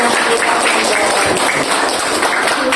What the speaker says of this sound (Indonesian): kasih aplaus untuk teman kalian